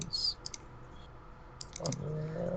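A computer mouse clicks in a few quick, faint bursts near the start and again around the middle, over low background hiss with a soft voice sound near the end.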